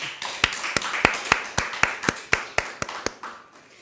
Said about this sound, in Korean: 자, 우리 하나 영광의 박수 칩시다.